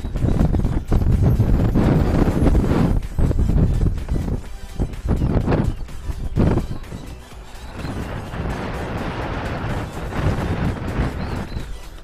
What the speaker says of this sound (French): Aujourd'hui, beaucoup de vent. J'espère que niveau son, ça va pas trop gêner.